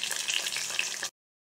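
Cauliflower frying in hot oil gives a steady, bright hiss and sizzle for about a second before cutting off abruptly into silence.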